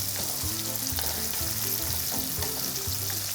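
Shrimp, tomato and mushroom gambas al ajillo sizzle steadily in a frying pan, a close, continuous hiss of hot oil with faint stirring clinks, no talking.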